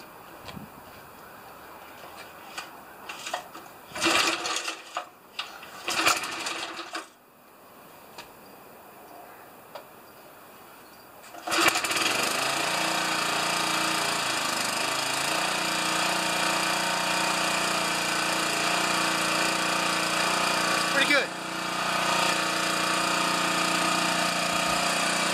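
Garden tiller engine pulled to start: a few rough sputtering attempts, then it catches and runs loudly and steadily nearby, with a brief throttle surge near the end.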